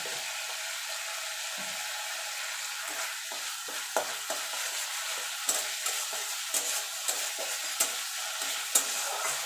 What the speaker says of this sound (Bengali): তেল ছেড়ে আসা পর্যন্ত একটুখানি কষিয়ে নেব রঙের জন্য দিয়ে দেবো একটুখানি মিনিট লঙ্কার গুঁড়ো